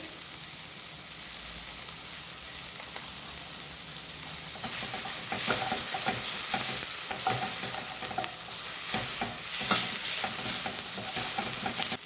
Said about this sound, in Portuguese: E vamos refogar, deixar ela ficar douradinha pra gente estar acrescentando o alho.